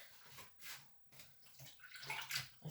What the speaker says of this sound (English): I still need to rinse off the rag with clean water.